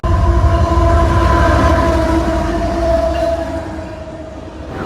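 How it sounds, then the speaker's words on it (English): A CSX local freight train led by a GE Evolution Series (GEVO) locomotive running long hood forward rolls past close by, a loud, steady rumble of wheels and cars with sustained tonal horn-like notes, easing slightly toward the end. "we also had a CSX local with the CSX Jevo long hood forwarding and the goofiest ditch lights"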